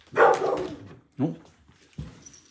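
A dog on a back porch barks three times, one longer loud bark followed by two shorter, fainter ones with brief pauses between, fairly close.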